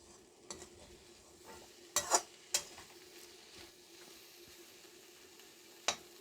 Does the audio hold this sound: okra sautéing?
yes